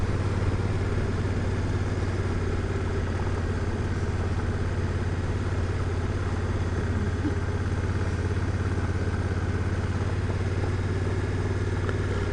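A 2016 Honda Africa Twin motorcycle rides along a bladed dirt road through a forest, its engine droning steadily and fairly close for the whole stretch, with some clatter and no talking.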